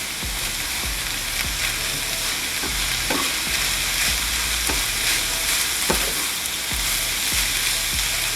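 Beef enchilada filling with garlic and cumin frying in a pan over medium-low heat: a steady close sizzle broken by regular stirring scrapes, with no talking.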